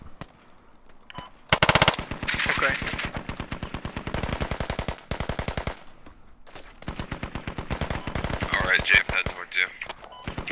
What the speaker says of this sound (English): Yo, I'm under heavy fire, I need help.